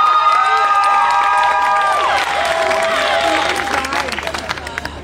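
A crowd at a Women's Month event at the V&A Waterfront cheers, whoops and applauds a choir, loud and close, with high shouts and clapping building over a dense hubbub of voices.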